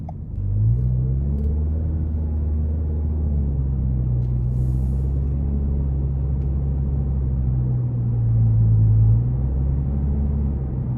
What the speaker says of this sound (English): That exhaust just sounds really, really nice.